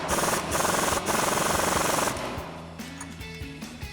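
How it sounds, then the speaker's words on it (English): A socket wrench tightens the sway bar end link nuts on a Silverado or Sierra 1500 pickup during a leveling kit install, making a fast, loud, even rattle for about two seconds, then fading into lighter metallic clicks and scrapes. "we can take a 15mm socket and wrench and tighten these down"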